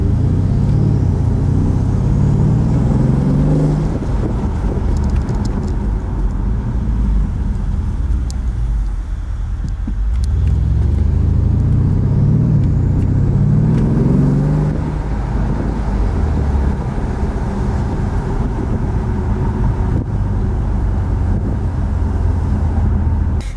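A 2011 Mercedes CL63 AMG on the road, its low engine drone rising and falling through gear changes with steady tire and wind noise inside the cabin, loud and continuous with no talk.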